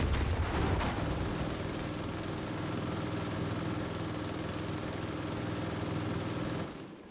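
Sustained rapid gunfire from Far Cry 5 rattles on continuously as a dense, steady barrage for several seconds before cutting off abruptly near the end. There is no talking.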